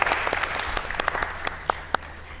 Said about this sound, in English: Can I have a big applause for Claudio?